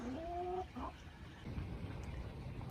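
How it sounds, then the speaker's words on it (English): Chickens stepping out of a backyard coop, with a couple of short clucks near the start followed by quieter scratching and rustling in the background. "here come the little chickies out right now"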